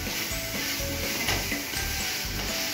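Chicken biryani being stirred in a pot so it won't stick, a steady close scraping and stirring over a low sizzle of onions, with rhythmic strokes and no talk.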